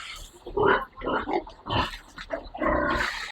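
Piglets being fed dry feed grunt and squeal in irregular bursts close by, mixed with rustling and a person talking.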